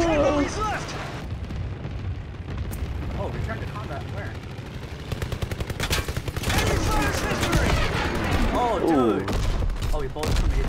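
Gunfire and explosions crackle through a World War II shooter battle on the Operation Husky map, with rapid bursts of shots that thicken in the second half, while players talk excitedly over the action.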